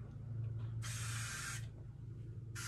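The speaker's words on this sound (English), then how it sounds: "It's body spray of the day." Body spray hisses from an aerosol can in two bursts, a long steady spray of under a second followed after a pause by the start of another, close to the microphone over a low background hum.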